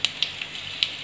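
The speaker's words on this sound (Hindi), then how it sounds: "अब मैं इसमें कुछ दाने मस्टर्ड सीड के डाल रही हूँ और ये थोड़ी सी एक पिंच हींग" Mustard seeds and a pinch of asafoetida crackle in hot oil, with a few sharp pops over a soft steady sizzle, close and fairly loud.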